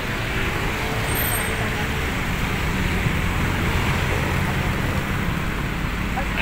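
Motorcycles and other vehicles idling and passing at a roadside checkpoint, a dense continuous rumble of engines and road noise close by, with a voice heard faintly in the mix.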